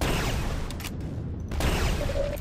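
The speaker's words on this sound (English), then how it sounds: "you're gonna snipe me with rockets?" Loud rumbling blasts of enemy rockets in Quake 2, a continuous roaring barrage with a couple of sharper bursts, no voices.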